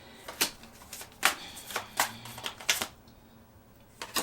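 Tarot cards are shuffled in a rapid series of crisp riffling bursts, close and fairly quiet, pausing briefly before a final couple of snaps.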